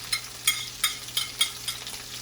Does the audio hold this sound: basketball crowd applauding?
no